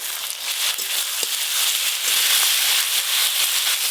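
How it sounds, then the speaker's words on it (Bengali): Chopped onion dropped into hot oil for a spicy fish curry, frying with a bright steady sizzle and crackle that rises after a moment and holds, with no voices. "তেল গরম হয়ে গেছে, গরম তেলের ওপরে পেঁয়াজ কুচি দিয়ে দেব"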